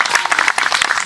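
Festival audience clapping together, a brief burst of many hands applauding at close range, loud and continuous.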